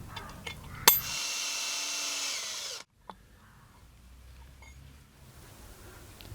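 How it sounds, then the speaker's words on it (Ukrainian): An electric drill bores 3 mm holes in brass, whirring steadily for about two seconds after a sharp click, then stops abruptly, leaving quiet room noise. "По кутах свердлимо отвори 3 мм."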